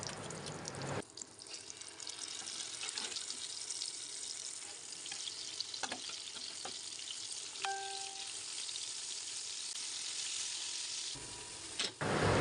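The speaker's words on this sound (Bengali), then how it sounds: "এখন আমি আস্তে আস্তে সব মাছগুলো ভেজে নেব।" Rohu fish pieces sizzle and spit steadily in hot oil in a wok, a continuous close, bright crackle with a brief clink of a utensil partway through and no voices.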